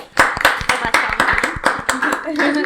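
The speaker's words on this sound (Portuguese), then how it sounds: "Uma salva de palmas para a Teacher Fernanda, professora." A small group claps a round of applause for a teacher named Fernanda on a Portuguese-language show, sharp close handclaps in a quick steady rhythm with voices mixed in.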